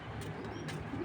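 Racer pigeons cooing in a loft, a soft steady low murmur running through the whole short moment with no voices over it.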